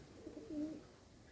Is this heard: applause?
no